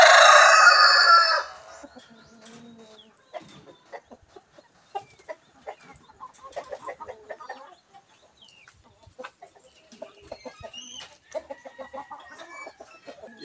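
Chickens on a backyard breeding setup, a loud burst of rooster crowing up front and then scattered close clucks and soft fowl calls continuing through the rest.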